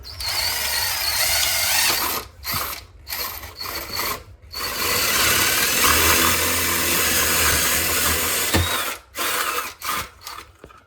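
A loud impact driver whirs and rattles in long grinding bursts, drilling into concrete block, stopping briefly between runs, close to the microphone.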